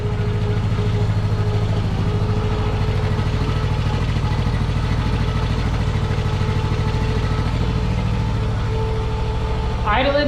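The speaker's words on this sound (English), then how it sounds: "Idling nice and smooth, which is a good sign." A turbocharged Honda Pioneer 500 side-by-side idles steadily with a smooth, even low rumble, close and constant throughout, with a brief higher mechanical whine near the end.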